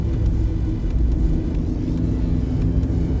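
A car engine drones steadily while driving at around 90, shifting up into fifth gear, a loud low rumble with road noise and no clear change in pitch.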